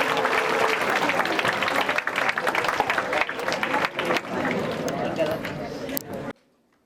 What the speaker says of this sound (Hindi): आइए जोरदार तालियों के साथ इनका स्वागत करते हैं।